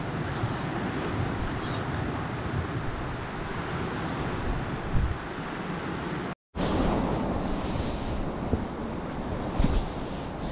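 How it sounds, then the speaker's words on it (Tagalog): Strong, cold wind blows hard during a solo backpacking day, a constant loud roar of gusts against the microphone with a brief dropout midway, and no voices. "malakas yung hangin, sobrang windy"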